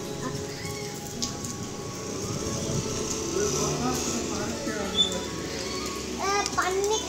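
Heavy rain pouring down in Balangir, a steady broadband hiss running throughout beneath children's chatter and playful voices.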